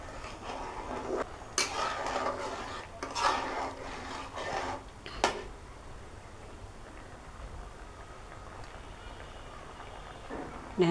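Payesh of rice and bottle gourd is stirred in a pot, with scraping and clinking strokes in irregular bursts early on, then quieter simmering background.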